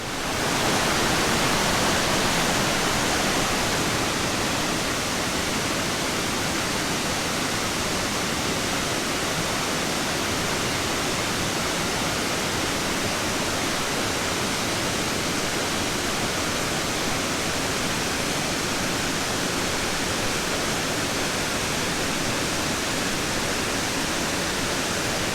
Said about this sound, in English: This is Panther Creek Falls. It's a popular waterfall